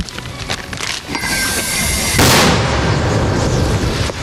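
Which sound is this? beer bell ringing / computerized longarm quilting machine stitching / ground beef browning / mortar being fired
mortar being fired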